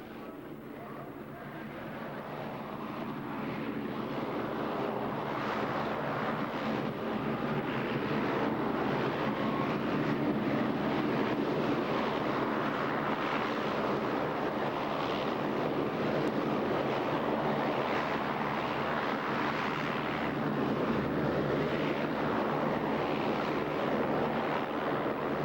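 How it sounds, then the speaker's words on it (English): Propeller airplane taxiing backward on reversed propellers at a 1987 airshow, a steady loud engine and prop drone with a low hum that swells in and holds throughout, no voices. "With those propellers reversed, of course, we can back the airplane up."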